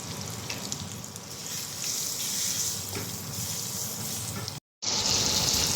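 Onion lightly frying with spices for hilsa fish and data greens, a steady close sizzle with soft stirring, broken by a momentary silence before the hiss resumes.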